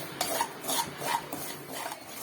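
Semolina (rava) dry-roasting in a pan, soft rhythmic scraping and rubbing strokes of a spoon through the grains, about five even passes, quiet and close.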